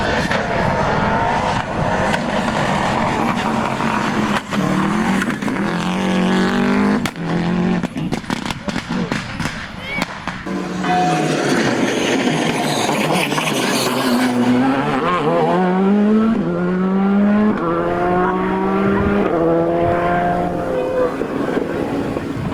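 A Porsche rally car at the Condroz rally roars past with rising and falling engine pitch through gear changes, loud and close, as a voice talks in the background.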